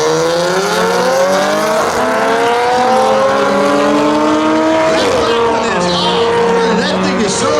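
Two street legal drag race cars, numbers 33 and 69, race side by side at Beech Ridge spectator drags, loud engines revving hard through rising gear pulls with shifts, a crowd and announcer's voice faint beneath.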